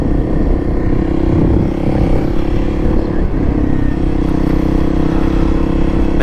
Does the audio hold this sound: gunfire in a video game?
no